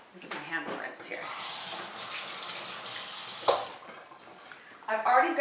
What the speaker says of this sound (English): let me get my hands rinsed here